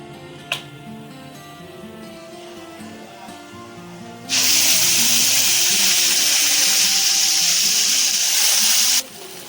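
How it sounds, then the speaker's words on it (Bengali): Water from rinsing a mixer jar pours into a vegetarian paneer gravy made without onion and garlic: a quiet start gives way to a loud, steady rushing splash lasting about five seconds, then it stops abruptly. "মিক্সি ধোয়া জলটাও দিয়ে দিলাম।"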